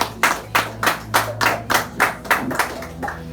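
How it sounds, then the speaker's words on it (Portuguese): A church congregation at a healing and deliverance service claps in unison for Jesus, with about ten sharp claps on a steady beat over a low hum. "A igreja toma sede e bate palmas para o Senhor Jesus"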